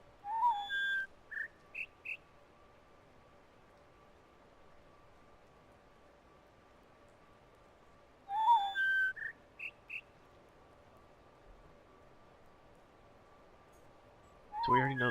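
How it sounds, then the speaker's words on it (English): An owl in The Witness hoots three short, clear whistled notes in a rising pattern, repeating twice over a quiet, faint hiss. "I feel like there's only 3 notes from the owl, though."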